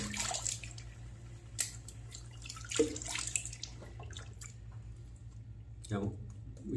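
Water from a bowl is tipped out and a Wizamet safety razor is briefly rinsed, giving short splashes and drips against a steady background hum, with someone talking throughout.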